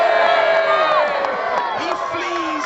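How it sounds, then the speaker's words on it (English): At a Battle of Hastings reenactment, a large outdoor crowd cheers for the Saxons with loud, overlapping shouts, whoops and children's voices rising and falling throughout. "Cheer now for the Saxons if you want them to kill Duke William!"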